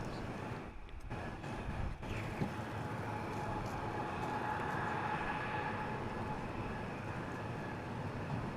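A heavy jet aircraft at Dallas Fort Worth airport gives a steady, broad engine roar that holds loud and constant throughout, heard from a distance with no talking.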